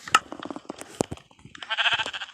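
A sheep in a farm video game gives one short bleat near the end, following scattered clicks and soft game sounds.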